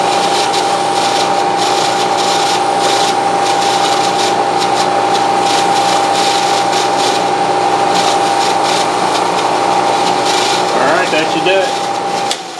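Wood being shaped with a power tool for the handle of a handmade branding iron: a loud, steady grinding whine with a constant tone throughout, and someone speaks briefly over it.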